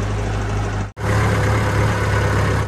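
A tractor engine idles steadily and close by, a constant low rumble that cuts out for an instant near the one-second mark and then resumes just as loud, with no one talking.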